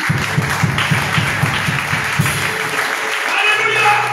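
A church congregation applauding and cheering, with steady loud clapping from many hands that fades toward the end, while voices sound faintly underneath.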